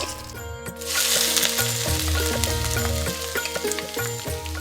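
Black cumin, dried chillies and chopped garlic fry in hot oil, a steady close sizzle that swells after the first second, broken by light clinks of a spoon against the pan, with tonal music running underneath.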